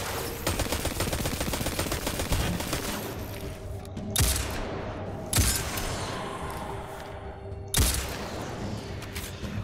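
An energy-charging sniper rifle in the video game Destiny 2 builds a dense crackling charge, then fires three sharp, loud shots spaced a few seconds apart, each followed by a decaying boom.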